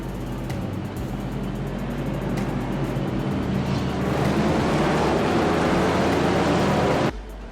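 GT3 race cars rolling off the line together in the rFactor 2 racing game, a dense, loud blend of engine roar swelling over several seconds before cutting off abruptly near the end.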